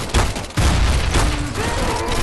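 Heavy bursts of gunfire from the Counter-Strike: GO video game in a zombie escape match, with loud, dense volleys of shots in quick succession, close and continuous.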